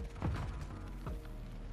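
A weapon reload in Call of Duty MW3: quiet mechanical clicks and a creaking metallic slide, one clack early and another about a second later.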